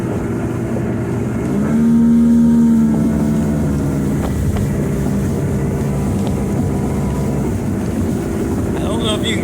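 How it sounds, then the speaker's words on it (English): A 1996 Champion 192 SF motorboat engine on a lake drones steadily with a low tonal hum, wind buffeting the microphone throughout. "this is a cool running boat"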